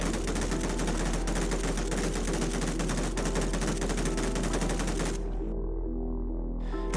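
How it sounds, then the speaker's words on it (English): An MG3 light machine gun fires in a video game at 900 rounds a minute, a loud, continuous stream of rapid shots for about five seconds, then a quieter tail with a lingering low rumble. "MG3 at 900 rounds a minute compared to the Saw at its fire rate."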